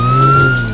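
Police car siren in a children's song with cartoon emergency vehicles, a short loud steady tone with no wail or sweep within the brief moment.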